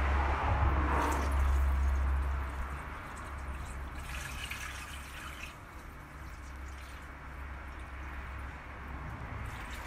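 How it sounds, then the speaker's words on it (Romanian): About 2 litres of water pours and splashes steadily into a Thermomix bowl, loud at first, then settling into a softer continuous trickle. "pun cam 2 litri de apă"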